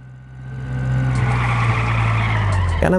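Car tires skidding across a parking lot in the Sneaky Sasquatch video game: a loud, sustained engine drone with tire squeal that builds and holds for a few seconds, ending in a short clatter.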